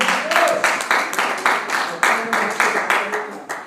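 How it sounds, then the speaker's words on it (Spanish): A church congregation claps in rhythmic bursts, fairly loud and close, with voices mixed in among the applause. "Denle un aplauso al Señor."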